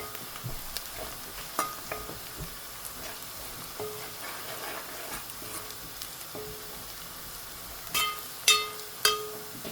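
Onions frying and sizzling in a pan for a Gujarati sukela bombil curry, a soft continuous hiss with occasional stirring scrapes and a few louder clatters near the end, no talking.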